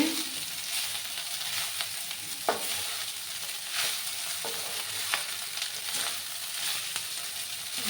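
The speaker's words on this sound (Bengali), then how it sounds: "দিয়ে ভালো করে আমি মিক্স করে নিচ্ছি" Leftover rice being stirred and fried in a pan, giving a steady close sizzle with occasional scraping clicks from the spatula throughout.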